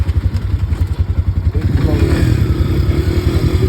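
Speedboat engine at a sandy beach, a loud close motor with rapid throbbing pulses that swells into a denser steady roar as it passes, with wind and surf noise behind.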